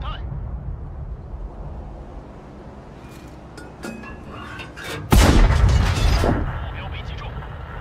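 A tank cannon shot in World of Tanks, one loud booming blast midway that rings out and decays, preceded by quieter engine rumble and mechanical clicks.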